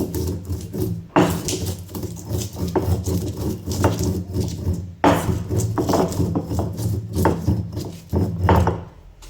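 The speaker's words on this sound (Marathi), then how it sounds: "बडीशोप, मिरी आणि वेलची याच्यात बारीक करून घेते" Fennel seeds, black pepper and cardamom whir and rattle in a small grinder as they are ground into powder, a dense continuous churning with short bursts and pauses, fairly loud and without speech.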